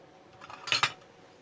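A spoon stirs yogurt into milk in a cup or dish, giving a couple of quick, light metallic clinks close by against an otherwise quiet background.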